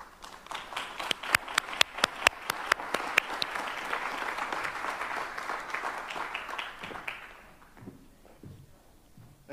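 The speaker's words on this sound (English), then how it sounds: "I want to ask all the executive committee members to stand for a round of applause" A roomful of people applauds executive committee members at a Cincinnati civic announcement event, with loud, sharp, irregular clapping building up and then fading into scattered claps over about eight seconds.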